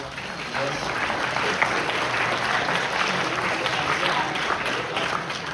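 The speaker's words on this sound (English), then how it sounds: "will you give yourselves a round of applause" A crowd claps steadily at a high school jazz concert, a dense wash of applause that holds evenly throughout, with voices mixed into the noise.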